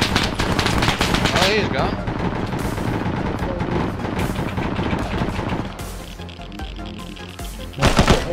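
Rapid bursts of machine gun fire from a military video game rattle loudly and densely for most of the stretch, easing briefly before a sharp final burst, with a short spoken remark over the shooting.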